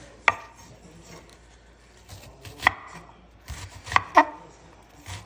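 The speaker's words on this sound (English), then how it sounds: "the more you chop up the onion, better" A good-sized onion is chopped into large chunks with a knife on a board: a handful of crisp, irregularly spaced chops, close and clear, with quiet pauses between.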